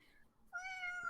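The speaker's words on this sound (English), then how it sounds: "Oh, that's a cat." A cat gives a single drawn-out meow, starting abruptly after a near-silent moment and holding steady, heard faintly in the background of a quiet room.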